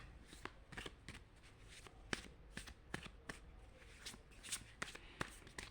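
Soft papery flicks and riffles of a spirit guide oracle deck being shuffled and a card drawn, a quiet run of irregular crisp snaps, close and faint, with no talking.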